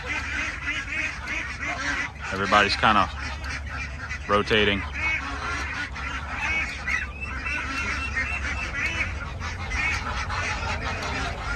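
Geese and ducks honk and quack continuously in a busy yard flock, a few sharp nearby honks standing out above the steady chatter, while a person talks briefly over the birds.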